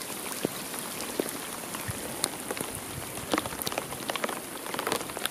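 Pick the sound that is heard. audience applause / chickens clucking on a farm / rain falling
rain falling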